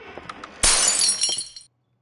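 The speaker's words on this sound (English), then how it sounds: "It's glass breaking." Glass shatters loudly in the horror video game Emily Wants To Play: a sharp crash with a bright spray of falling shards that lasts about a second, after a few faint ticks, then cuts to silence.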